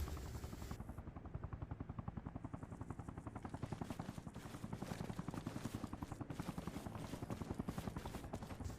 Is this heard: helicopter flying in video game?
yes